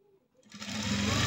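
A sewing machine starts up and stitches around a blouse neckline, a quick whirring run rising from near silence, close, with a voice speaking faintly at the start.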